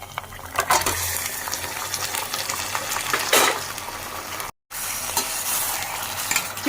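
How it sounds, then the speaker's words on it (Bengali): Onions and chicken frying in a pan, a steady close sizzle with stirring scrapes throughout, briefly cutting out before the crackle resumes. "পেঁয়াজটা একদম লাল লাল করে ভেজে নিতে হবে। এরপর দিয়ে দেব চিকেনগুলো।"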